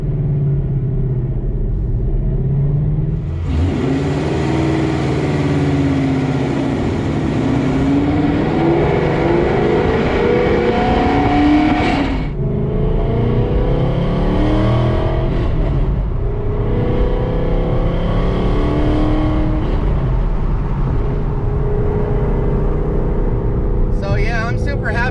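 A naturally aspirated Ford Mustang Boss 302 with new mods accelerates hard on a test drive, its engine revving and rising in pitch through several gear pulls, loud and close from inside the car.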